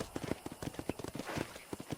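Horse hooves clip-clop in a quick, even rhythm in Red Dead Redemption, a run of close, distinct thuds at a trotting pace, fairly quiet, with no talk over them.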